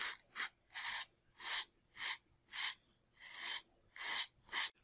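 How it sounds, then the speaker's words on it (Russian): Sandpaper rasps steadily over the stabilizer joints of a Boeing 787 model airplane, with about nine even back-and-forth strokes, close and quiet, and no talking. "Остается слегка эти переходы подгладить наждачкой."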